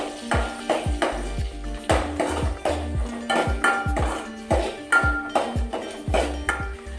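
Chillies, four garlic cloves and chopped shallots are sautéed in a pan for a Tamil fish curry. A spoon clinks and scrapes against the pan in a quick, regular rhythm of about fourteen strokes, close and clear, under a faint sizzle with no talk.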